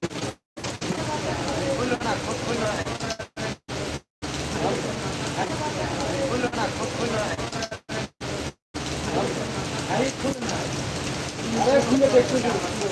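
Steady rain falls in a dense, continuous patter with a few brief gaps, and faint voices sit low beneath it.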